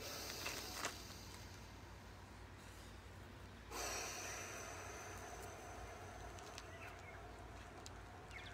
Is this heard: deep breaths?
yes